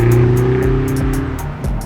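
A BMW XM plug-in hybrid with a V8 accelerating hard, its deep, steady engine drone loud and close, with a rising rumble and no talking.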